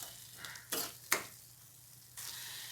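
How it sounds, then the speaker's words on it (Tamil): Diced capsicum frying in oil for Indian-style red sauce pasta gives a quiet steady sizzle, broken by a few sharp spatula scrapes against the pan and a louder hiss returning near the end. "சேர்த்துட்டு கொஞ்சம் நேரம் கிளறிக்கோங்க."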